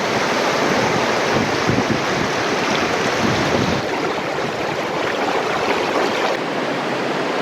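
Rushing water at the Mathur aqueduct over the Kothai river in Kanniyakumari, a loud, steady roar of flowing river water filling the whole scene without a break.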